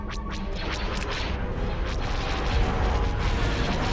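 In a Star Wars video game space battle, rapid bursts of cannon fire crackle and boom over a dense, roaring din as a space station comes under attack, shots coming in quick succession without pause.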